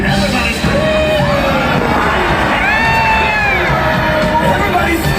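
Crowd at a Disneyland Halloween fireworks show screaming and cheering loudly and continuously, with shrill yells and whoops rising over dense roaring applause-like noise.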